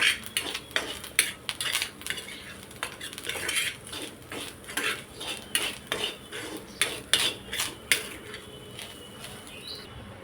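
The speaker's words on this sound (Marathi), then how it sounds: "खोबरं चांगलं सोनेरी रंगावर भाजून घ्यायचं आहे." A metal spoon scrapes and clinks steadily against a pan while grated coconut roasts to golden brown for a no-onion, no-garlic masala paste, a rapid, fairly quiet series of stirring taps and scrapes heard close up.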